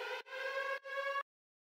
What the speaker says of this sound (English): it just sounds like this, just a basic alarm